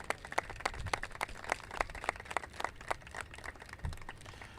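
A crowd claps steadily at an athletic field dedication ceremony, light scattered hand claps from a modest audience at moderate distance, with no talking over it.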